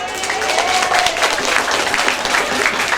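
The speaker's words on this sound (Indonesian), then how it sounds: "Tepuk tangan dulu bu." Loud, dense applause from an audience at an elementary school farewell and grade promotion event, continuous clapping filling the whole stretch with faint crowd voices underneath.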